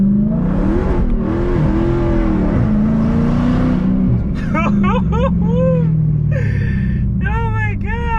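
A Dodge Charger Hellcat, shifted into manual first gear, roars as it accelerates hard, its loud engine note climbing inside the cabin while people talk and shout over it.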